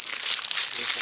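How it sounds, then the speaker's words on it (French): Bread dough being kneaded inside a plastic bag at a solo mountain bivouac, giving brief close crinkling and rustling of plastic in a quick, busy rhythm. "je me pétris un peu de pain. Voilà, dans un sac plastique"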